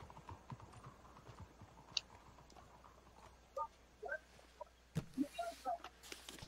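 Horse hooves clip-clop faintly in the Red Dead Redemption 2 video game, soft irregular steps under low ambient game sound, with a few brighter sounds near the end.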